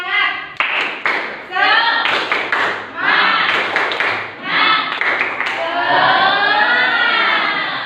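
Students with their teacher perform a rhythmic spirit clap, a patterned sequence of sharp hand claps punctuating loud group chanting voices, close and energetic.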